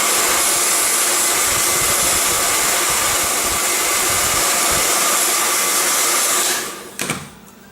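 A heat gun blows a steady, loud hot-air roar over a foil skin wrap for several seconds, then cuts off abruptly, leaving a short clatter and quiet.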